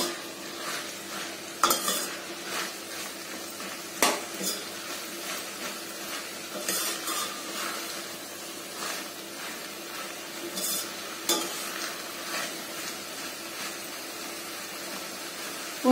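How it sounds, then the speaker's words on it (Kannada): Bitter gourd stirred into hot oil tempering in a pan for a gravy, giving a steady low sizzle with a scattering of louder scraping stir strokes throughout, close and without talk. "ಆಗಲ್ಕೈ ಚೆನ್ನಾಗಿ ಒಗ್ಗರಣೆಯಲ್ಲಿ ಬೆರೆಸ್ಕೊಳ್ಳೋಣ"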